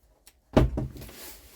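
A cutlery drawer in a narrowboat galley slides open with a sudden close knock and a short rattling rumble that fades, after near silence.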